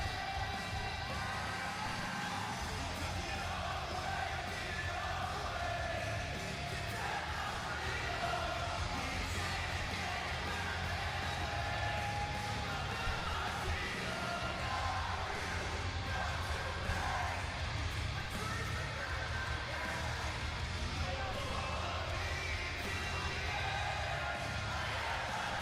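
A large live wrestling arena crowd at a WWE SmackDown show in Italy roars and cheers continuously, a dense, loud wall of voices and whoops that never lets up.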